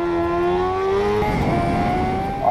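Kawasaki Ninja H2R superbike engine on an onboard Isle of Man TT lap at Bray Hill, a loud, steady high-revving whine that shifts pitch midway and gives way to rough roaring and wind noise.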